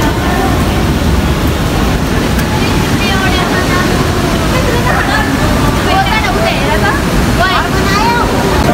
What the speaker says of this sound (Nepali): पानी पो चुहिरहेछ